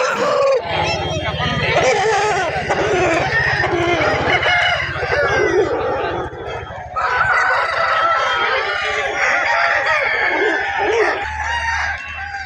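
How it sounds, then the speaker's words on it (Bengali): At Balarampur haat market, a large rooster crows and clucks up close in repeated loud calls, with market chatter and voices talking throughout. "এখানে আর একটা বড় সাইজের মুরগা আছে।"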